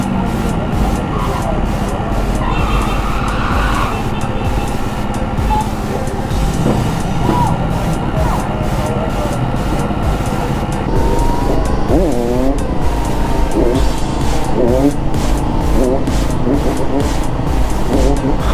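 A pack of Surron electric bikes and dirt bikes ride wheelies through Miami traffic, with loud, close engine revving and whining alongside passing cars and occasional squealing, continuous for the whole stretch.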